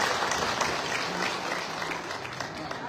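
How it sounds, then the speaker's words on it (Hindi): A crowd at a political speech applauds steadily, a dense wash of clapping that stays fairly even throughout. "जोरदार तालियों से स्वागत करता हूं।"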